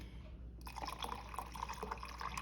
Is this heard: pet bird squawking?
no